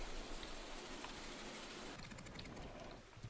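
Rain pours down in the farming game Farmer's Dynasty, a dense, steady hiss of falling water that fills the whole short stretch without pause.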